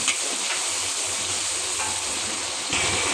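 Onions and tomatoes frying in oil for a dried anchovy sambal, giving a steady, dense sizzle throughout with a few brief brighter crackles, close and moderately loud with no talking.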